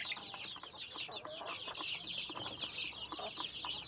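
Five-week-old chicks on a farm in Cebu keep up a dense, steady chorus of high peeping and soft clucking, close by and continuous, with no talk over it.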